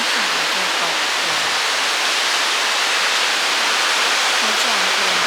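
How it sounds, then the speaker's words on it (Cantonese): A wide row of waterfalls in western Iceland roars as a steady, loud wash of broadband noise, with faint chirping sounds over it. "呢個瀑布真係好壯觀，好靚啊"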